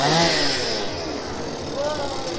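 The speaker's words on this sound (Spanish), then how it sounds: "Y llegaron los asesinos de la motosierra." A chainsaw engine is run by costumed chainsaw killers in a Day of the Dead parade in Zempoala, Hidalgo, its buzzing roar rising and falling amid street noise and voices.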